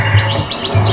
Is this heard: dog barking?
no